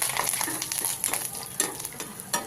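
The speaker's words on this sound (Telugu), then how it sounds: "పోపుని దోరగా వేయించండి" Mustard seeds, cumin and urad dal with broken dried red chillies fry in about three spoons of hot oil for a tempering, giving a steady close sizzle with faint crackles and light stirring scrapes.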